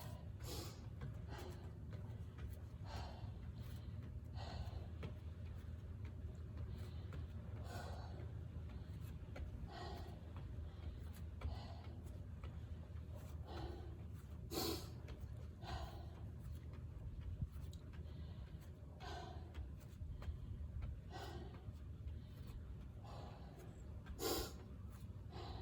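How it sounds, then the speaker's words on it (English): Faint, repeated sharp sniffs and breaths come at irregular intervals during a HIIT workout, spread over a low, steady background rumble. "Excuse my sniffing, I sniff when I work out."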